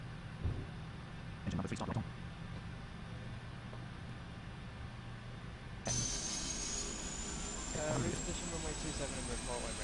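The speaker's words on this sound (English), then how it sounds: "Starting engine 3." Airliner engine three spooling up in a flight simulator: a steady broadband whine and rumble that steps up partway through with a rising high tone, with brief radio-style voice bursts over it.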